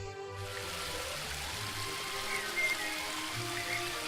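A steady waterfall roars in The Book of Unwritten Tales 2, a constant broadband wash of falling water with low tonal music underneath, holding even and moderately loud throughout.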